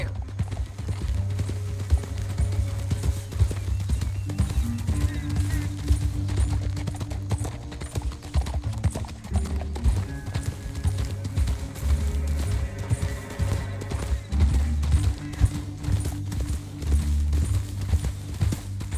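Horse hooves in Red Dead Redemption 2, a steady rhythmic clip-clop of galloping on open ground, close and continuous with occasional louder hoof strikes.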